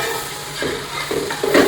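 Seven ripe tomatoes go into a pan of frying Kerala-style chicken curry, with a steady sizzle and a few scraping stirs that grow a little louder near the end.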